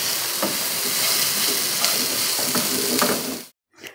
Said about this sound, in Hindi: फ्लेम मेरा हाई है और मैं अब इसको दो से तीन सेकेंड अच्छे से फ्राई करनी है